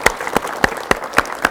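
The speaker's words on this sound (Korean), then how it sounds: "박수로 맞이해 주십시오." A studio audience at a 1985 Korean television broadcast applauds with crisp, evenly spaced claps that sound like a small group, close and distinct rather than a dense roar.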